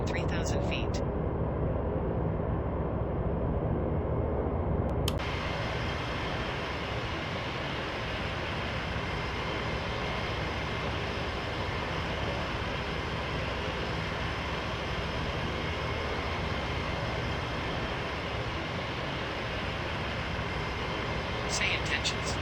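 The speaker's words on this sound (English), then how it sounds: "Clear for takeoff runway 27 left." An ATR turboprop airliner on takeoff from the runway: a steady, loud, broadband engine roar that holds throughout, with brief radio-like tones at the start and end.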